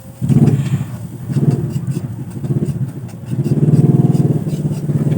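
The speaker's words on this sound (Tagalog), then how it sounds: "meron na namang dumaan ng motor" A motorcycle passes outside near a home kitchen, its mid-pitched engine drone swelling, fading slightly, then rising again over about five seconds, fairly loud and steady with no talk.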